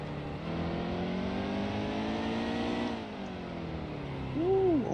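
A stock race car engine in NASCAR Heat 2, an Xfinity series car at Mid Ohio, drones steadily under throttle, its pitch dipping briefly near the middle before climbing again, followed by a short whining squeal.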